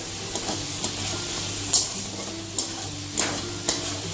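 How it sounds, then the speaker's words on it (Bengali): Low sizzling of turmeric powder frying in a pan, with a few sharp ticks and scrapes from stirring scattered through. "একটু ভাজা ভাজা করে নিব"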